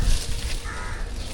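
Crows caw harshly in a short burst outdoors in the morning, rough calls standing out against faint background noise.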